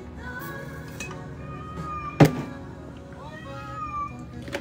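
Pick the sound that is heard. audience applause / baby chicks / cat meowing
cat meowing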